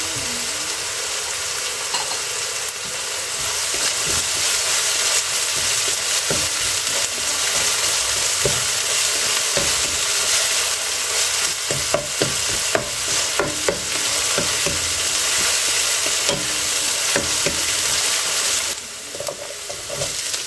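Garlic stir-fried in a pan, a loud continuous sizzle broken by scraping and tapping of a utensil against the pan, with a brief dip in the frying noise near the end.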